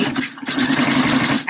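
A sewing machine runs a dense zigzag stitch while sewing a bra, a rapid close-up mechanical chatter that starts after a brief pause and then hums on steadily to the end.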